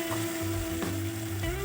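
Red chilli and whole coriander fry in hot oil for a cauliflower curry while being stirred, giving a steady close sizzle broken by a few soft scraping strokes over a low hum, with no talking.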